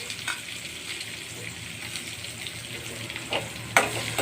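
Chopped onion and green chilli sautéing in a pan for wheat rava upma, giving a soft steady sizzle with occasional light stirring scrapes and a sharp clink near the end.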